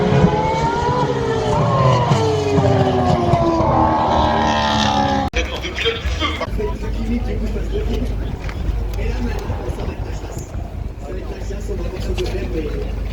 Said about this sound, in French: Il y a une F1 actuellement sur le circuit.